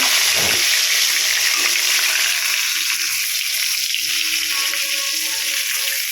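Fish sizzling and frying in hot oil for a Bengali potato-taro fish curry, a steady bright crackle filling the whole stretch with faint clinks and stirring beneath, no one talking.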